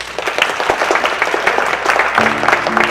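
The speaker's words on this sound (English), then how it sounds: "The audience applauded." Applause from an audience at a company's annual all-staff meeting, dense and continuous, with a musical tone rising underneath toward the end.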